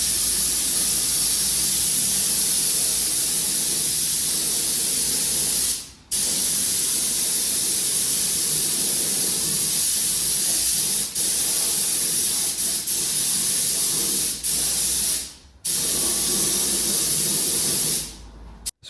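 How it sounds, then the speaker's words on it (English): Spray painting the wheels of a Vauxhall Nova: a loud, steady aerosol hiss held for long bursts, cutting out briefly in a few short pauses before resuming, close to the can. "I was spraying the back of the wheels as well at the same time"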